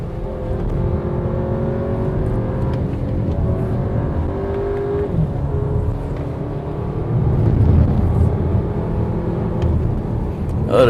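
A 2021 Audi Q3 Sportback Quattro climbs a wet, rainy hill road, its engine droning steadily up close with tyre hiss on the wet surface, then swelling louder as it accelerates near the end.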